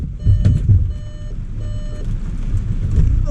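A parked car beeps insistently during a rainstorm, with loud, evenly repeating electronic tones over a low rumble of rain and engine noise.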